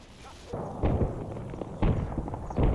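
Incoming gunfire and explosions in the modern-warfare game Combat Mission Black Sea land as a few dull, thumping blasts spaced about a second apart, fairly close and loud over a low rumbling background.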